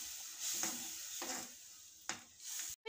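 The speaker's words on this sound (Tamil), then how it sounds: "இப்போ இதை கிண்டி விட்டுடலாம்." A prawn curry with grated coconut just added is stirred in the pot, several short scraping strokes over a faint simmering sizzle, ending in a sharp close knock.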